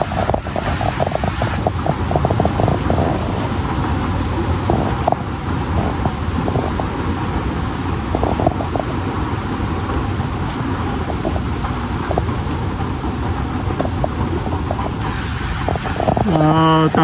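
Super typhoon Aghon lashing a garden of potted plants and orchids in Quezon Province, with a steady roar of wind and heavy rain under scattered clattering gusts, a sustained loud storm throughout with a brief burst near the end.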